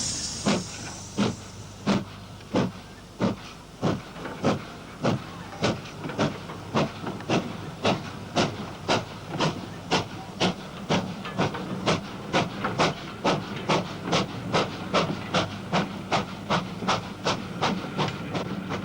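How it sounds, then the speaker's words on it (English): Modified Hall class steam locomotive No. 6996 pulling away, a steady series of sharp exhaust beats that gradually quicken, with an early hiss of steam and a rumbling low undertone. "The departure of a modified Hall, 6996, allows us a comparison with the original Collet variety."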